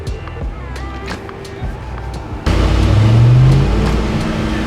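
A Lamborghini Aventador SVJ with a titanium exhaust in sport mode launches hard at about the halfway point, a loud, rising engine roar swelling up and holding after earlier idle burble and chatter from people inside the car.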